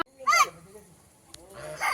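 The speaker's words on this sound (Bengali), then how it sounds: "রাজহাঁস আসছে" Two loud honks from a goose, one at the start and another at the end, with quiet outdoor ambience between.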